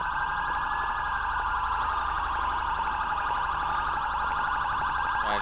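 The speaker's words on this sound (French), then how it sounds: "Allez, éteindre les sirènes" Police car sirens wailing continuously in GTA V, a loud steady warbling tone that fills the scene over a rumbling engine.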